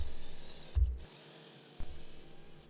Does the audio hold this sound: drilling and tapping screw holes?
yes